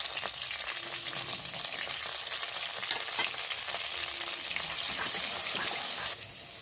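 Green chilli paste sizzles and fries steadily in a pan for a ridge gourd and moong dal curry, a continuous bright crackle with faint clicks of stirring, swelling slightly near the end, close and without speech.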